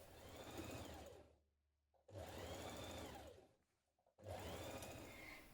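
A sewing machine stitches a 6mm side seam on a Vogue 9100 dress in three close, steady bursts of whirring, separated by short quiet pauses.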